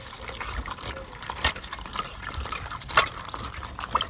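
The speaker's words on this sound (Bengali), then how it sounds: "কুলগুলোকে এবার আমি ভালো করে ধুয়ে নেব।" Jujube fruits being washed by hand in water, with continuous sloshing and splashing close by and a few sharper splashes as the fruits are stirred and rubbed.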